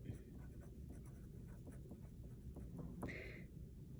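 A pen scratches across paper during a classroom test-prep lesson, with steady, close strokes and short pauses over a few seconds and no talking.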